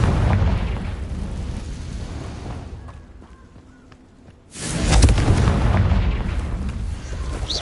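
Explosive bursts from a Confringo fire spell in the Hogwarts Legacy game, loud rumbling blasts that fade to a quieter stretch before another heavy boom swells back in.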